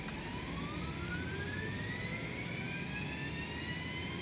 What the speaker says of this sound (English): Let's go for a successful engine start,